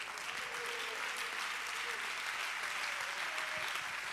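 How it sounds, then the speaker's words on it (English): A church congregation claps hands in sustained, dense applause that fills the room evenly throughout, with a voice faintly audible beneath it. "Clap your hands unto the Lord."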